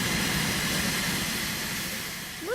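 The California Skunk Train steam locomotive gives off a steady broadband hiss and rumble of steam, loud and continuous, with a brief rising whistle-like tone near the end.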